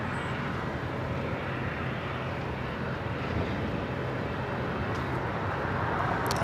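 A Boeing 747 comes in to land at LAX, its engines a steady, broad roar that holds loud and even from start to finish, with faint traffic noise mixed in.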